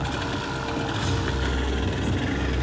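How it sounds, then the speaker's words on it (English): A boat engine idles steadily on a trip through remote rainforest territory toward the Waorani, giving a constant, near, low mechanical hum with a light rattling vibration and no talk. "Start the engine, we must get out of here."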